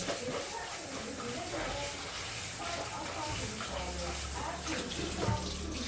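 Water from soaked rice pours and drains steadily through a strainer, a continuous close splashing trickle like a running tap, with a faint low hum underneath.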